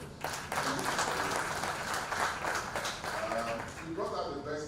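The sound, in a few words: round of applause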